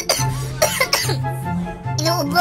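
A person coughing several times in short, harsh bursts, close to the microphone, with a constant low hum underneath.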